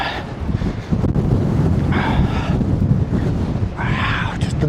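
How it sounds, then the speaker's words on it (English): Strong wind buffets the microphone in a steady low roar on open Alberta farmland, with dust blowing and brief bursts of speech rising over the rumble. "Oh, it is windy."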